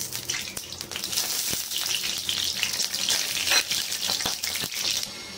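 Oil sizzling in a hot pan at home, a bright close crackle with scattered sharp pops and spits running steadily throughout, no talking.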